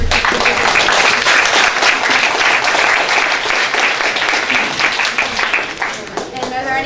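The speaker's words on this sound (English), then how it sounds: "Can we have another round of applause for" A conference audience claps loudly in a sustained round, many hands pattering densely close by, tapering slightly near the end as a voice begins to speak.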